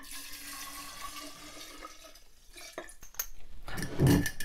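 Half a litre of 40% ABV vodka is poured into a container, a soft watery trickle that builds into a louder splashing gush near the end, with faint clinks before it.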